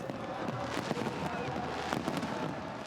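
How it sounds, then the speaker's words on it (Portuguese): Fireworks burst over Doha, Qatar's capital, at the closing celebration of the World Cup, heard as distant scattered pops and crackles over a steady crowd roar. "Nos céus da capital do Catar, os fogos de artifício iluminavam o encerramento da competição no país árabe."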